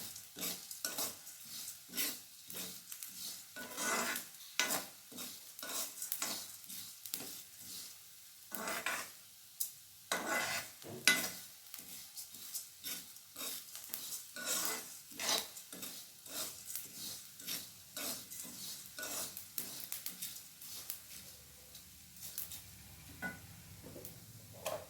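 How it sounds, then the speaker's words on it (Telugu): Coriander and cumin seeds sizzle and fry in a pan while a spoon stirs and scrapes repeatedly, giving irregular clinking strokes over a steady soft hiss, close and fairly quiet. "ఇవి కొంచెం వేగాలండి. ధనియాలు, జీలకర్ర లాస్ట్లో వేసాం కదా"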